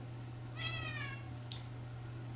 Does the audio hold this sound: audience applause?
no